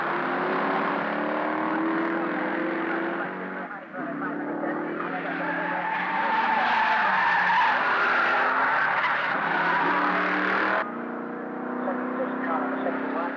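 At the 1970 Bathurst 500 touring-car race, a Mazda spins and skids, its tires squealing in a long, loud, continuous screech with engine noise, sustained for several seconds before easing and then resuming.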